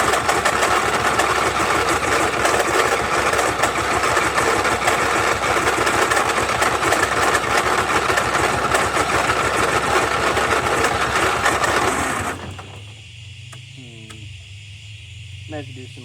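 A John Deere tractor engine idles slightly lean through a carburetor, a loud, close, rapid chugging throb that runs steadily before cutting off abruptly near the end, leaving quiet background and a voice.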